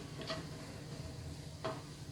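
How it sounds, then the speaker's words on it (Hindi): Chopped capsicum and green chilli sautéing in a pan for a restaurant-style chicken Manchow soup, giving a steady close sizzle with two brief stirring scrapes about a second and a half apart. "कैप्सिकम डाल के हम इसे बस आधी मिनट के लिए सौटे करेंगे।"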